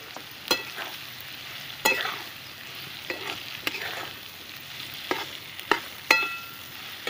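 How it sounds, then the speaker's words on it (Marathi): Vaghata (Govind fruit) vegetable fries with red chili powder and ground peanut in a pan, a soft continuous sizzle broken by repeated scraping stirs of a spoon at irregular intervals, close and fairly quiet. "अशी फ्राय करून थोडीशी सुकी बनवली तरी चालते."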